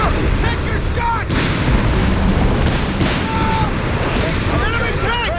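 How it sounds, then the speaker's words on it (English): Artillery fire in a Company of Heroes 3 4v4 battle, heavy dense booms and blasts rolling continuously with battlefield din, while voiced unit callouts shout over the top. "Incoming fire!"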